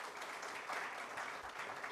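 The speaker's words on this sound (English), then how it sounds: "Because you are not only clapping for them, you are clapping for yourself." Audience applause in a hotel conference hall, a faint, steady patter of many hands clapping together, distant and even throughout.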